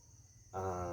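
A red jungle fowl rooster, a bantam, crows loudly and close with a harmonic-rich call that starts suddenly about halfway through, preceded by quiet background hum.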